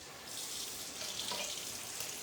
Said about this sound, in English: Let's see if my tap water is going to get hot.